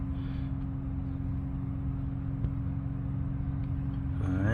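Engine idling steadily right after a cold start on a car with a 27-year-old restoration and cracking engine paint, a low even rumble close by with faint clicks and a slight swell at the end.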